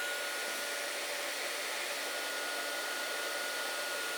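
A handheld heat tool blows over a paper craft project, a steady, loud whooshing hum that holds unchanged from start to finish with no voices.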